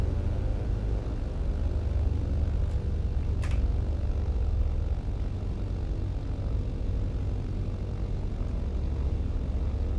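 A Loganair BN2 propeller plane taxis in a flight simulator game, its engines giving a steady, loud droning rumble throughout, with a brief higher click near the middle.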